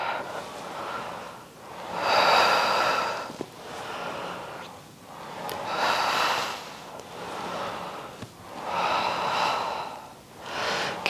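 Slow, deep breaths during a Pilates reformer lower-body exercise rise and fall in a steady cycle, about three full inhale-exhale rounds, close and airy with no talk.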